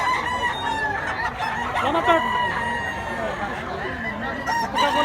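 A full stag fighting cock, a three-year-old bandilan, crows loudly and close, with clucking from other fowl around it and someone talking over the birds.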